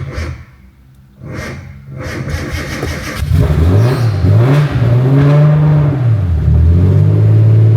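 A Nissan Skyline engine cranks with a few quiet starter bursts, then catches and runs loudly close by, revving up and down in several swelling pulses before settling into a steady idle.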